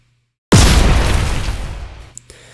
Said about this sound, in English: we got a big explosion here that also caused me some clipping issues